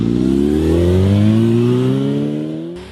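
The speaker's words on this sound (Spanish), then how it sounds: "Para esto tenemos aquí una motocicleta Suzuki 250 Marauder." A Suzuki 250 Marauder motorcycle engine revs up loudly and steadily, its pitch climbing over a few seconds before cutting off abruptly near the end.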